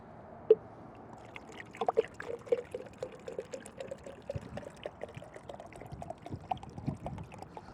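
Water being poured from a bottle in a car while driving, a soft trickling stream with small splashes and gurgles over a low, steady road hum.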